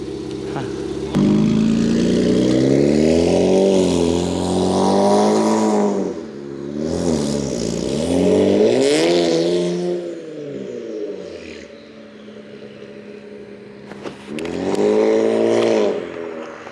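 A straight-piped twin-turbo Infiniti Q50 Red Sport engine revs repeatedly, rising and falling in pitch with a raspy, droning tone and audible turbos, loud and nearby, with a voice talking over parts of it.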